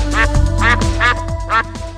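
A cartoon duck bathing gives four quick, nasal quacks in an even rhythm, close and clear over a steady musical backing.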